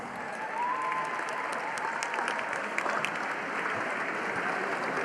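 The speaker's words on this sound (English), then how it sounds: "give yourselves a round of applause." A gala audience at an evening charity live auction applauds steadily, a dense wash of many hands clapping with a few scattered whoops, even and sustained across several seconds.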